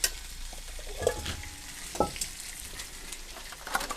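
Salmon frying in a pan gives a steady, fairly quiet sizzle with soft stirring and scraping taps near the one-, two- and four-second marks, and no voices.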